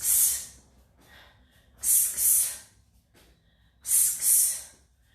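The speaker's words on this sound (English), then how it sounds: "Each punch comes out with a breathe out." Sharp exhales accompany boxing punches: a single forceful hissing breath, then two quick paired bursts, then another pair, loud and close with quiet pauses between.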